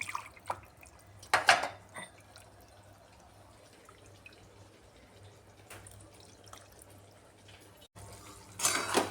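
Water rinsed from a mixer jar is poured into a simmering mutton curry, splashing and dripping in short bursts with quieter gaps and clinks of the vessel, close by and without talking.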